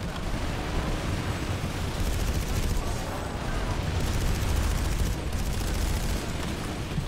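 Sustained, dense gunfire from the Planetside 2 shooter game, a loud continuous roar of overlapping shots and blasts filling the whole stretch without a break.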